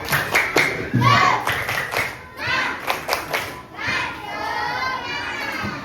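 Schoolchildren in a classroom clap together in a quick patterned cheer rhythm, mixed with their excited chanting voices, loud and close.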